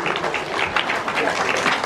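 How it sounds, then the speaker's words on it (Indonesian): Congregation applauding at the blessing of a Catholic church as the bishop opens the doors, a dense steady wash of many hands clapping, close and full, with a voice faintly mixed in. "Ya, beri tepuk tangan."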